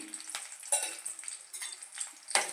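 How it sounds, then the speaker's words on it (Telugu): Cumin seeds and dry red chillies fry in hot oil for dal with fenugreek leaves, giving a steady close sizzle with a few brief stirring scrapes and no voices. "బాగా వేగనివ్వాలండి ఇదిగోండి బాగా ఎండుమిరపకాయలు గట్ట వేగిపోయాయి"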